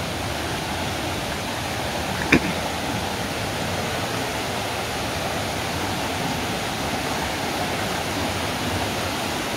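Steady rushing water of a forest stream flows without pause near the Jet Khot waterfall in Thailand, a dense continuous hiss, with one brief click partway through.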